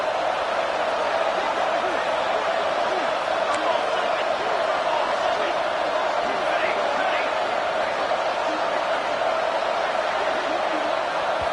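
Steady, dense roar of a stadium crowd in a college football video game, an LSU Tigers home game near the goal line, loud and unbroken with no talk over it.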